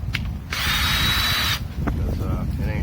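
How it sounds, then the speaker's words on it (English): A cordless drill with a dying battery whirs for about a second with a strained, thin motor tone, then stops; faint clicks and handling noises follow. "Alright, well, I guess this drill's dying too."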